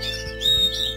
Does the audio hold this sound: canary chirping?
yes